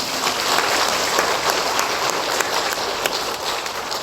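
Church congregation applauding together, a dense, steady wash of clapping heard close and filling the whole moment without pause.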